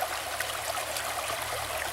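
A creek flows in a steady broadband rush and trickle, close and continuous, with no voices over it, in hot, humid summer weather.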